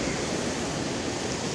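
War Eagle Creek, running high after flooding, gives a steady, even rush of flowing water that stays level and close throughout, with no voices over it.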